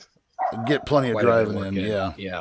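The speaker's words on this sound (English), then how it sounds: "There's some dogs yapping." Dogs yap and bark in the background behind a home podcast-style conversation, their high yips partly buried under a voice talking over them.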